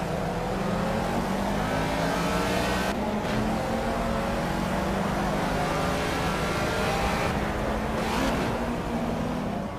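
A Ford Escort Mark 1 race car in the Project CARS video game at the Catalunya circuit holds a loud, steady engine drone with layered harmonics, close and continuous, with brief shifts in tone and no voices.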